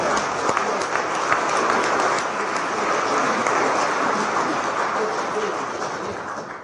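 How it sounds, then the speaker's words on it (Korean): Sustained crowd applause for a presidential candidate's keynote speech at an indoor campaign event, a dense, steady wash of many hands clapping at close range that holds level throughout and tapers slightly at the end. "기조연설을 해주신 후보님께 다시 한번 큰 박수를 부탁드립니다"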